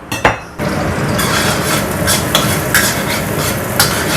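Garlic sizzles loudly in foamy oil left over from frying eggs, starting with a couple of metal clinks and then a steady close crackle with occasional stirring scrapes.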